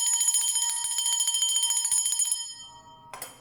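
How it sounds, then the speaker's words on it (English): A small bell used for sound cleansing rings rapidly and repeatedly, a bright trilling tone that sustains and then fades, followed by a faint rustle. "the frequency of that bell, the ringing of the bell, is actually an irritant for demonic forces or for dark forces"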